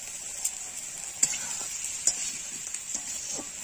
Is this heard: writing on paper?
no